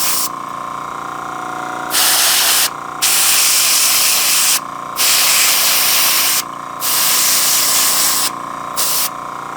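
Bursts of hissing aerosol test spray of weathering paint on a GP7 model locomotive, several presses of a second or two each, over a steady mechanical hum.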